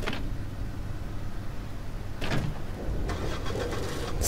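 A car in the video game Dead Island runs with a steady engine drone, with louder bursts of driving noise partway through and near the end. No one speaks.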